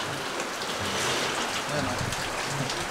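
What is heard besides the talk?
rain falling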